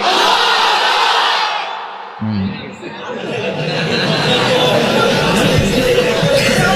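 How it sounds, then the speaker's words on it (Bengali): A large crowd at an Islamic sermon gathering roars the takbir chant in unison, a loud, sustained mass shout that swells and briefly dips before surging again, filling the space. "তাকবীর দাও, লিল্লাহি তাকবীর"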